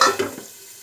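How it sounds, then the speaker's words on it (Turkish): Peppers fry in a pan with a brief burst of sizzling and a couple of quick stirring clicks at the start, fading to a faint, quiet hiss. "Bu böyle bir kızarmaya dursun biraz."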